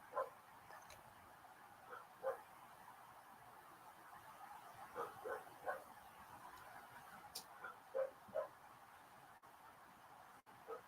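A dog barks in repeated short, moderately distant yips and woofs spread over several seconds, with faint background noise between bursts.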